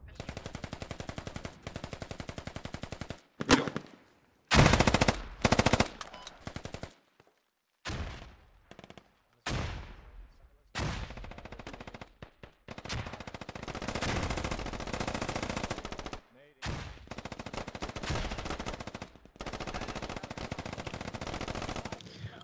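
Gunfire in the video game Squad: bursts of automatic rifle and machine gun fire in long loud runs, broken by short gaps, with dense rattling volleys through most of the stretch and no clear talking.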